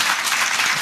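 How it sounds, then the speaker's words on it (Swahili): An audience at an International Domestic Workers Day event applauding the Labour Commissioner, a dense, loud, continuous wash of many hands clapping in a brief burst. "Let's keep clapping for our Labor Commissioner."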